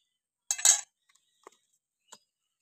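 Semolina cake batter with baking powder and baking soda being stirred in a bowl: a short burst of clinking and scraping, then a few faint, sparse taps of utensil against the bowl, close by with no talk.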